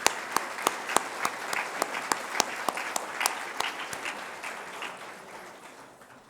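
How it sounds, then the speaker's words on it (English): Audience applause for Vietnamese peacekeepers at a UN anniversary celebration of Viet Nam's membership, a steady wash of clapping with sharp individual claps standing out, gradually thinning and fading away. "I ask you please a round of applause to the Vietnamese peacekeepers."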